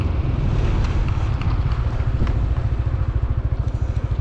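A Yamaha NMAX 155 scooter riding along a road at speed, a loud steady engine drone with a fast pulsing beat, heavy wind rush over the microphone and no talk.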